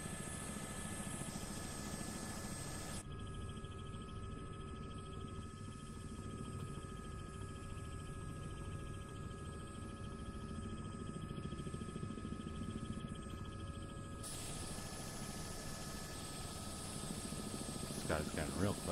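Helicopter engine and rotor drone from Microsoft Flight Simulator 2024 in VR, a continuous steady whine and throb heard from the cockpit, with a pitch shift mid-clip and growing louder toward the end.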